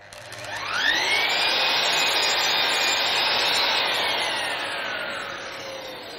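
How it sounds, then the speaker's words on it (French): Festool Symmetric SYM 70 miter saw cutting wooden glazing bead molding: the motor spins up with a rising whine, then a loud, steady high-pitched saw roar through the cut that slowly tapers, close and alone without talk. "Je peux désormais tout scier de manière précise et nette."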